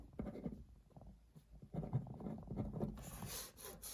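Quiet scratching of a pen or pencil on paper, irregular strokes close by, with a brief rustle toward the end.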